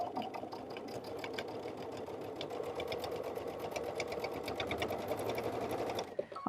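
A sewing machine with a quarter-inch J foot runs a simple seam without pause, a steady, fast mechanical whir with rapid needle ticks, close and even, ending abruptly.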